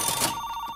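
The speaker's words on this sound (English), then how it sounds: "make your phone ring" A telephone bell rings in a short electronic trill, clear and steady, used as a sound effect in a radio advertisement.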